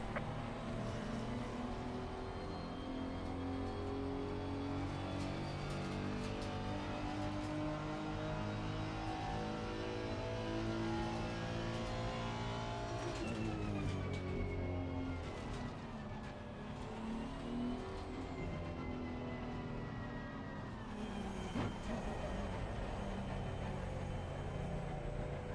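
Honda NSX race car engine in a video game at Bathurst's Mount Panorama, a continuous loud high-revving drone with shifting pitch as gears change, sustained throughout without pauses.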